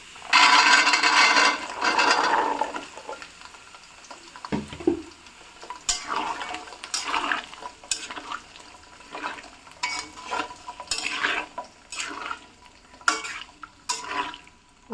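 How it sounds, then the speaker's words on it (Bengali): Garlic cloves hit hot oil with toasted tempering spices for a garlic pickle, giving a loud sizzle at first, then quieter frying broken by irregular scrapes and knocks of a spoon stirring in the pan. "রসুনগুলো দিয়ে একটু ভালোভাবে নেড়ে চেড়ে নেব।"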